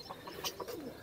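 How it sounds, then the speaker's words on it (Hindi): Caged pigeons coo softly in the background, giving low, murmuring calls that overlap faintly over about a second. "इधर जो है हमारे कबूतर, वो मैं आपको दिखाता हूँ जी।"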